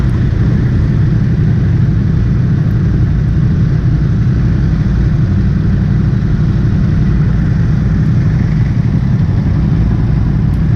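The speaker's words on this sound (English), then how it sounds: "in this video I'm test riding the Ducati Supersport S" A Ducati Supersport S motorcycle engine runs steadily close by, a dense, continuous low rumble with a faint mechanical clatter that holds an even level throughout with no voices.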